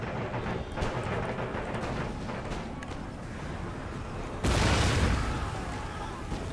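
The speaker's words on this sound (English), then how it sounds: "Let's get my howitzers to provide some long range fire support." Distant artillery booms and rumbling cannon fire from howitzers in the Napoleonic-era strategy game Empire: Total War, a dense low battle roar with a heavier surge of blasts near the end.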